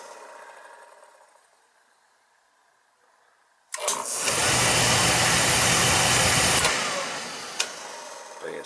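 A Beckett oil burner with a safety fault sits at a low hum before firing with a sudden loud roaring whoosh, burning steadily for a few seconds, then fading back down as it trips out, with a sharp click near the end.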